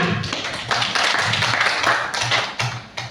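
An audience at an indoor talk or training session claps together, a dense, steady wash of many hands lasting about three seconds with no voices over it.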